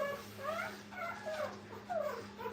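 Nursing puppies in a kennel give a few thin, rising whimpers and whines, close and fairly soft, over a steady low electrical hum.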